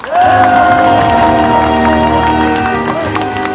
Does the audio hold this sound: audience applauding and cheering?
yes